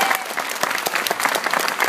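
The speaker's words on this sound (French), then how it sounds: "Eh ben on peut applaudir Patrick, je crois." Showcase audience at the Pasino in Saint-Amand-les-Eaux applauding for Patrick, a brief dense burst of many hands clapping close and loud.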